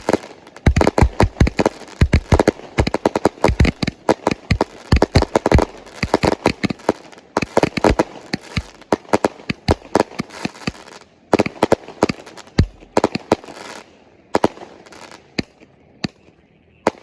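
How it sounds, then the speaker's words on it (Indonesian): Rapid bursts of New Year's Eve fireworks, including large Roman candles, bang and crackle in dense volleys, thinning into scattered louder pops toward the end. "Di sana juga ada pesta kembang api."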